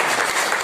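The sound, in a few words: audience applause at business celebration meeting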